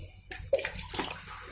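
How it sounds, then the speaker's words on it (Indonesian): Brief trickle and splash of water poured onto soil around an air-layered honey guava, a short gurgling pour with a few splatters, close and fairly quiet. "Siram lagi sedikit."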